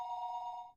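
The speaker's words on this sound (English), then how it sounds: "The sound of a phone ringing gets clearer and clearer the longer you go on sleeping." A single short burst of a bright, trilling telephone bell ringing in the video game Higurashi: Watanagashi-hen, clear and close, fading out quickly.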